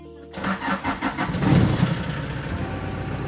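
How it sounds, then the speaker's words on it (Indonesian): A diesel car engine cranks briefly, then catches and settles into a steady, rattly diesel idle, close and fairly loud, after running on subsidized diesel fuel. "ini sudah bisa menyala kembali normal guys mesinnya"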